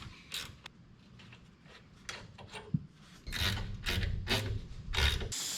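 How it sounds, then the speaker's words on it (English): A brake caliper is worked loose on a 1968 IH Travelall: quiet scraping, rubbing and ratchet-like metallic clicks come in short, uneven bursts. The work is fairly close, gets busier toward the end, and no one speaks. "I'm going to try to remove this caliper here."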